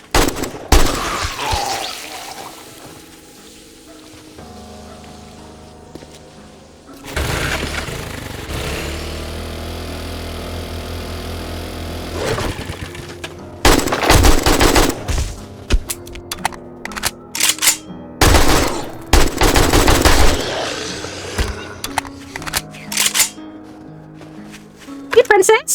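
Gunfire in a frost-biome video game, sharp shots bursting in clusters through the second half over a steady game hum and music, with a voice talking through much of it.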